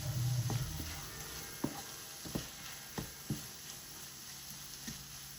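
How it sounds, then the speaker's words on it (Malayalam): Minced beef with spice powders sautéing on a medium flame, a faint, steady sizzle under a run of sharp spoon clinks and stirring scrapes against the pan. "ഇതെല്ലാം നന്നായി മിക്സ് ചെയ്ത് പൊടികളുടെയൊക്കെ പച്ചമണം മാറുന്നവരെ 2 മിനിറ്റ് സ്റ്റൗ മീഡിയം ഫ്ലെയിമിലേക്ക് വെച്ചിട്ട് ഒന്ന് വഴറ്റിയെടുക്കാം."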